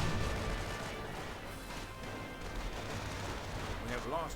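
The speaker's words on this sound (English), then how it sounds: "we saw the Churchill AVRE use its little shell to take it out" Battle noise from the Company of Heroes strategy game during a 2v2 match with Churchill AVRE tanks and Panthers. A dense, continuous roar of explosions and gunfire fills the scene at a steady level without pause.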